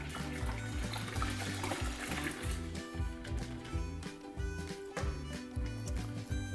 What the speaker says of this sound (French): on va commencer par verser les 2 litres de lait dans le faitout